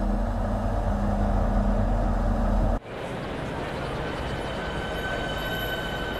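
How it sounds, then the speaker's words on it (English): A Southeastern high-speed electric train in the game Train Sim World 2 starts to move, with a steady loud hum and rumble that drops sharply, then turns into a rougher, broader rolling noise. "This train is ready to go. Pull the indicated handle towards you to get moving."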